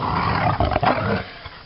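A dog growls low and rumbling in short bursts at close range, steady for about a second and then tapering off, with no talking over it.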